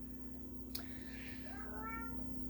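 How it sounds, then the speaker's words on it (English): A cat meows a few times in quick, rising-and-falling calls over a steady low hum, with a brief sharp click just before. "If you hear meowing"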